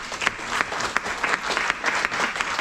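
Audience applause fills a conference hall after an introduction at an AI event, steady dense clapping with sharper accents every half second or so, close and sustained throughout.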